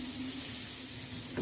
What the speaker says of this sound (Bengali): পাউরুটিটা ভাজার জন্য বাটার দিয়ে ভাজে